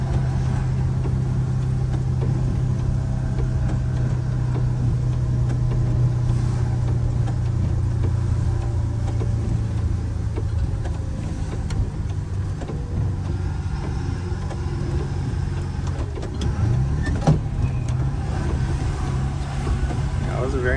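MCI 5 coach bus on a test drive, its diesel engine droning steadily from inside the cabin, with a gear downshift changing the engine note partway through and road and wind noise throughout.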